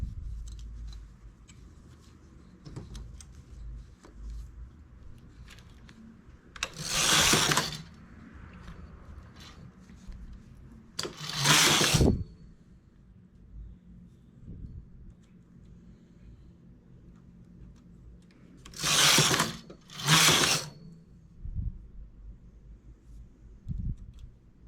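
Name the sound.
knitting machine carriage moving, knitting vertical stripe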